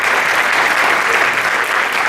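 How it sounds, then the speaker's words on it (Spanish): Audience applause at a cultural event in Tlaxcala, Mexico, a loud, dense, even burst of clapping from many hands that fills the short stretch without pause. "denle un aplauso"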